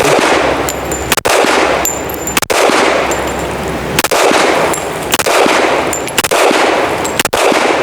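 Pistol shots ring out at an outdoor range, a Glock 21 Gen 5 with a Gideon Optics red dot, several loud sharp cracks spaced about a second apart over a steady wind-like roar, with metallic pings from steel targets.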